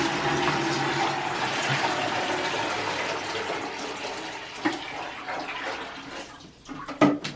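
Water pours steadily into a 5-liter bucket from a fountain appliance, a continuous broadband gushing and splashing that runs the whole time, with a few brief knocks and clunks near the end.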